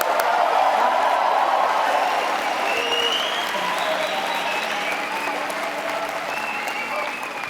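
Sustained applause from a large graduation ceremony audience at a university event in London, dense steady clapping with crowd cheering throughout, loud and continuous.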